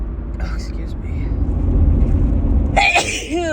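One huge sneeze from a woman bursts out near the end, loud and close, after a brief whispered breath and over a low rumbling background hum.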